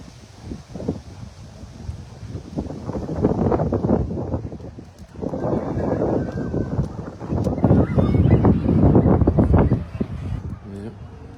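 Gusty wind buffets the microphone outdoors at a horse show, rising and falling in loud broadband rushes across the clip, with faint voices underneath.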